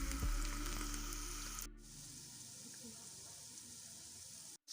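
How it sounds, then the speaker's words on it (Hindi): Onions frying in oil for chicken pulao give a steady broadband sizzle, louder in the first couple of seconds and then settling into a softer continuous hiss, with a brief break near the end. "हमारा प्याज जो है देखें फ्राई हो रहा है"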